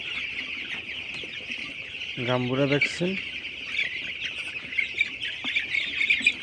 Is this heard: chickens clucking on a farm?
yes